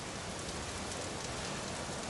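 Steady rain falling outdoors, a dense, even hiss of drops on surfaces with no pauses, moderately loud and unaccompanied by any voices.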